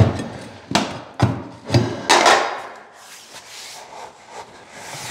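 An LVP flooring plank is tapped on its end so it slides under the baseboard by the door trim, giving several sharp, separate knocks close by, followed by softer scraping and shuffling.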